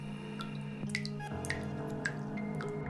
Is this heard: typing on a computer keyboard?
no